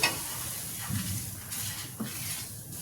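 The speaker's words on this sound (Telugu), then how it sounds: "ఇప్పుడు కాజు వేగాక రవ్వను వేపుకుందాం మనం." Dry semolina (rava) roasting in a pan after cashews, stirred with soft scraping and gentle sizzling strokes, close and quiet with a steady low background hiss.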